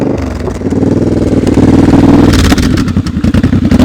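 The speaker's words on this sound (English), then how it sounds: "His bike sounds good too." A Harley-style cruiser motorcycle at a slow-speed riding practice, its engine loud and close with a deep rhythmic thump that swells as it revs, then chugs unevenly at the end.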